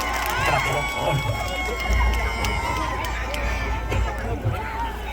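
Outdoor festival crowd at a chrysanthemum festival stage in Seosan claps and cheers for a trot singer, a dense, steady wash of applause and shouts over a low rumble.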